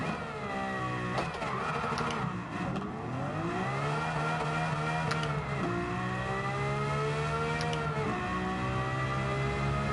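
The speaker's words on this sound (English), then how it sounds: "Lamborghini sounds absolutely fantastic" Lamborghini engine in the Gran Turismo 7 racing game, revving continuously with rising and falling pitch sweeps as gears change, loud and steady throughout with no talk.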